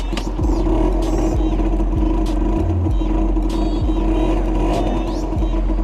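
A flooded MBK Booster One scooter engine runs with a steady, close buzzing drone, the throttle blipped repeatedly so the pitch rises and falls in short revs, loud and continuous with no voices.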